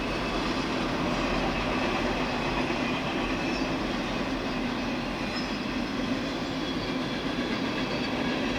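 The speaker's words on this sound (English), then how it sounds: "Pretty good sized train here" A long freight train of about 180 cars, boxcars among them, rolls steadily past nearby with continuous rumbling and rail clatter, sounding alone at an even level throughout.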